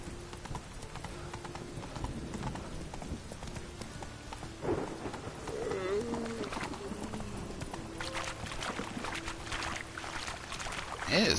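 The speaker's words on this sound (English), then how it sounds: "It is downpouring. It has not stopped." Heavy downpour and thunder in The Witcher 3: Wild Hunt, a dense steady rain wash with low rumbles, mixed with horse hoof clip-clops and a few tonal game sounds.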